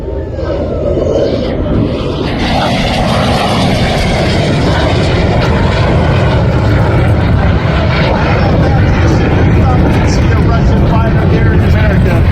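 A MiG-15bis jet fighter, a Chinese-modified version, roars past loudly during an air show demonstration, with its engine noise building and holding steady and voices faintly present underneath.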